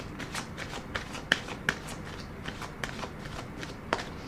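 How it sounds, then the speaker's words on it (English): Angel answer oracle cards are shuffled by hand during a tarot reading, giving a quick series of soft riffling flutters and light taps. The sound is close and fairly quiet, with no voice over it. "let me pull a angel answer card"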